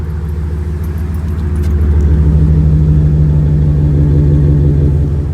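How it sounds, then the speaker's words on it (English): A lifted 2011 Chevrolet Silverado 1500 LT 4x4 truck engine idles with a deep, steady rumble, then revs up and holds a louder, sustained roar, close and continuous with no talking. "Listen to this sucker. Got a nice roar to it."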